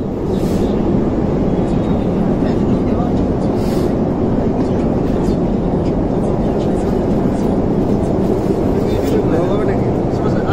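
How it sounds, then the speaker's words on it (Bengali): A metro train pulls into a station in Nanjing with a loud, continuous low rumble that fills the platform, and voices can be heard amid the din. "আমাদের মেট্রো অলরেডি চলে আসছে"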